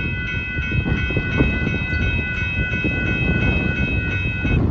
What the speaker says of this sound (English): There goes the northbound Union Pacific gravel train plus the horn show